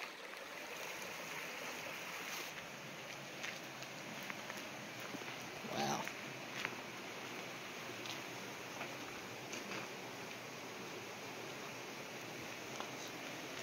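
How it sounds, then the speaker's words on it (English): Steady broadband rush of a flowing creek, continuous and fairly even, with a few faint knocks and rustles near the middle. "That's such a nice little creek."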